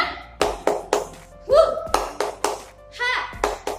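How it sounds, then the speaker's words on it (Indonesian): A first-grade class does a rhythmic 'tepuk semangat' clapping chant, with sharp bursts of hand claps in a steady beat mixed with children's and a teacher's chanted voices, close and lively. "ayo kita tepuk semangat dulu supaya lebih semangat"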